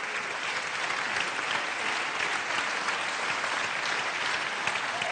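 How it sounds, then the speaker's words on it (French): Steady, dense audience applause filling a national awards ceremony, sustained at an even level throughout with no voices over it. "on profite des applaudissements"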